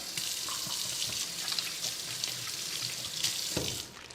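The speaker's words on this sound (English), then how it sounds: "Wash my hands." Hands are rinsed under a running kitchen tap, a steady close hiss of flowing water that lasts about four seconds before stopping abruptly, with a faint background sizzle and no talking.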